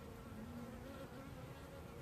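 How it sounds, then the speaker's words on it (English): A dense, continuous buzz of many honeybees moving toward a dipper carrying the swarm queen's pheromones, close and even throughout with no voices. "the bees are naturally going towards it"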